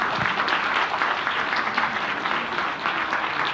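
Convention hall audience applauding the President at the PICC, a continuous dense round of clapping from a large crowd that stays strong throughout with a brief dip near the end.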